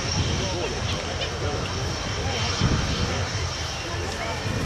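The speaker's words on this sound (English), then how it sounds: "enjoy your aeroplane, the British people's aeroplane, as she comes in towards us from the far side of the airfield" An Avro Vulcan jet bomber's engines roar steadily as it approaches across the airfield at the RIAT 2011 airshow, a broad sustained rumble with a murmuring crowd beneath it.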